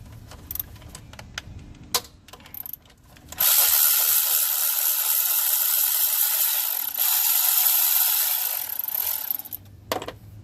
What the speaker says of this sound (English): Take off the bolts.